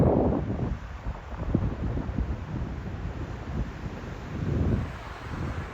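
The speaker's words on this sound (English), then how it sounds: "Sorry about the wind, it is windy here." Strong wind buffets the microphone at a campsite in the Gila Wilderness in fall, a continuous low roar rising and falling in gusts, with no voices.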